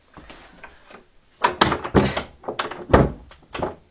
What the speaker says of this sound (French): J'ai juste fermé la porte parce qu'au niveau du son